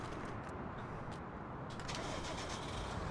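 Tractor engine starting in Farming Simulator 19, a steady, loud mechanical rumble that runs throughout with no voices over it.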